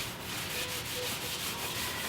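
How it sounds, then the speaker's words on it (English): A paper towel rubs wax into a wooden hand plane in steady circular strokes, a soft close scrubbing with a gentle repeating rhythm. "just using a paper towel. And you don't go back and forth, you actually do circular motion"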